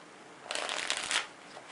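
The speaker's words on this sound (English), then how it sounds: "let's give the cards a good mix-up" A brief riffle of playing cards being shuffled, a quick fluttering burst lasting under a second, close by and fairly quiet.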